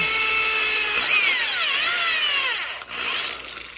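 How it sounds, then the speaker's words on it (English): A power drill whines steadily and close by, its pitch dipping and rising as it bites, with a brief dropout near the end. "What I like to do is drill in one side"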